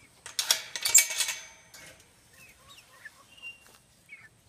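About eleven hens inside a chicken coop give faint, scattered soft clucks and chirps after a short burst of rustling and clatter, all quiet and close.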